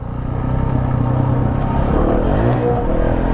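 A KTM 690 motorcycle on dirt trails revs hard with a loud, close engine drone that rises and wavers as it goes over a jump, alongside some rattling clatter.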